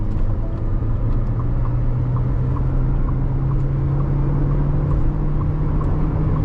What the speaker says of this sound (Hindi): और इतनी तगड़ी साउंड है इंजन की